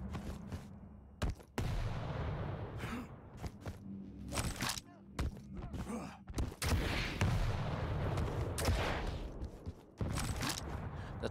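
Rocket launcher blasts and explosions in a Quake 1v1 championship match crack out repeatedly in sharp bursts, mixed with footsteps and game mechanisms, loud and close, with a commentator talking over parts of the action.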